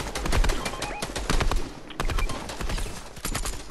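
Sniper rifle shots crack repeatedly in the Fortnite video game, a rapid string of loud, sharp reports mixed with other gunfire bursts throughout the short stretch.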